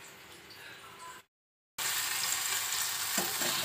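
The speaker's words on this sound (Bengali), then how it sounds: "বেগুন ভাজাগুলো হয়ে গেছে, এগুলো তুলে নিই।" Eggplant slices frying in oil in a pan give a steady, close sizzle that breaks off for a moment and then resumes, with a few faint utensil clinks near the end.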